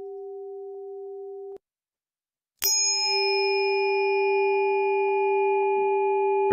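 Solfeggio frequency tuning forks for third eye and root ring out: first a pure steady hum that cuts off, then after a short silence a bright metallic strike that settles into a sustained, layered tone, clear and close.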